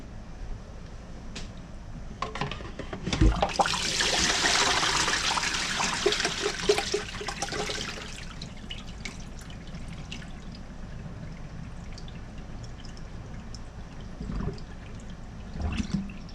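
Water rushing as a cooking pot is drained, then filtered cold water refilling it for Southern potato salad; a loud gushing burst early on, fading to quieter trickling and dripping with occasional knocks.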